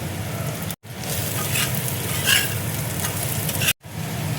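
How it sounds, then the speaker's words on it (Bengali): Onion, garlic and cashews sizzle steadily while frying in a pan, a dense crackling hiss that goes on without a break except for two brief dropouts. "পেঁয়াজ কাজু দেখো সব ভাজা হয়ে গেছে।"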